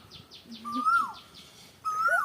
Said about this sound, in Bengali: কোকিল ডাকছে